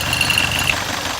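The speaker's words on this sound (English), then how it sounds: "it almost sounded like a diesel. So it was kind of noisy as far as like a heavy knocking noise" A 1971 Alfa Romeo GTV engine idling with a heavy, diesel-like knock, a loud close steady rumble with rapid rhythmic pulsing and a thin whine riding on top.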